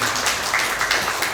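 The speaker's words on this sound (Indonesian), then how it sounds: "Kasih tepuk tangan dulu." Applause from a church congregation during a Christian sermon, a steady broadband patter of many hands filling the room at moderate volume with no voice over it.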